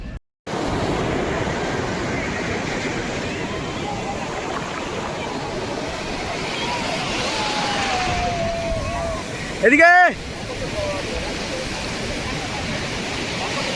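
Steady roar of sea surf at Puri beach, a broad continuous wash of breaking waves under outdoor wind, with a short voice heard briefly near the end.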